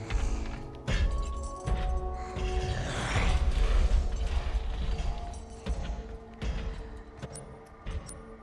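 Forklift machinery in the video game Resident Evil Requiem, a continuous mechanical grinding and rumbling with creaks, ratcheting clanks and a few heavy thuds, loud and sustained with no talking.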